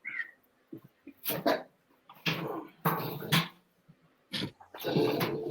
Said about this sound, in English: Cooper, You got a runaway dog in the house.